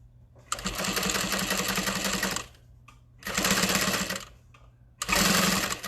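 A sewing machine bastes a quarter-inch seam on a tote bag in three close, loud bursts of rapid stitching separated by short pauses.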